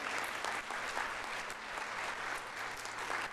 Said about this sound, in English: Round of applause for Nigel.